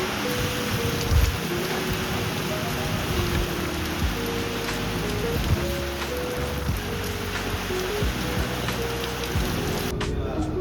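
Heavy rain pours steadily during a monsoon day in Gujarat, a dense, continuous hiss lasting throughout with low rumbling beneath and some faint tonal hum, no clear speech.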